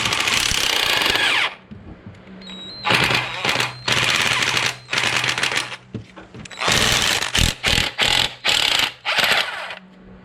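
A ratchet working loose a 12mm bolt on a Toyota 1MZ-FE V6 during a timing belt and water pump job, heard as loud bursts of rapid clicking separated by short pauses, close up.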